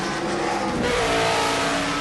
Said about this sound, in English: I remember this noise, this fabulous V16, which it had got a fearsome reputation.